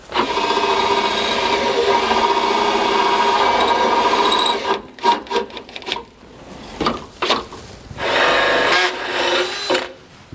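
Power drill boring a hole for a rear anti-sway bar on a 2020 Mercedes-Benz, a steady loud whir for about five seconds, then several short bursts of drilling.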